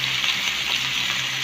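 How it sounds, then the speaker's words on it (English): Peach sauce bubbling and thickening in a hot pan as a steady, close sizzle with a dense hiss and faint popping, continuous and alone without any talking. "Starting to really bubble and thicken."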